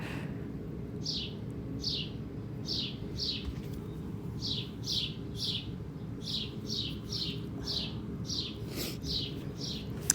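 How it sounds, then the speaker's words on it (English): Birds chirp in a steady series of short, high, repeated notes over a low background hum, fairly faint and a little distant. "You hear the birds?"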